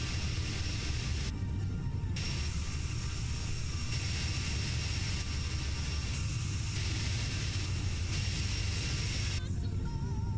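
SkyWest Delta jet airliner engines in a flight simulator game make a steady, continuous cabin roar with a broad hiss, holding at an even loudness throughout with no voices.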